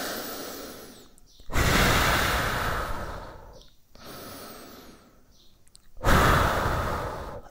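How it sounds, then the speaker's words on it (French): Two long, heavy exhales, each a loud breathy rush that fades out, separated by a short pause, close to the listener and with no talking. "Et on expire 2 fois."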